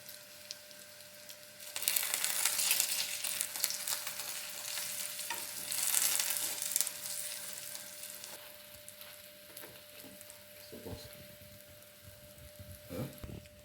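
Stuffed sandwich bread frying in hot oil, a bright steady sizzle that jumps up loudly after a couple of seconds then slowly settles, with occasional soft knocks of utensils.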